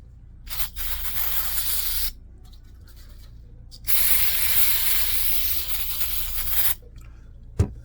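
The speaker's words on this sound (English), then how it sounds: "kind of spray this a little bit, get her cleaned up a little bit." Cleaner sprays onto the brake vacuum pump of a 2010 Volvo S80 3.2 in two long hissing bursts separated by quiet pauses, with a short spritz and a small click near the end.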